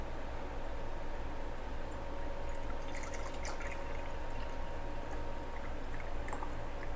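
Elderberry syrup pours through a funnel into sterilized pint jars, a soft continuous liquid trickle over low background hum, with a few faint clinks and drips and no voices.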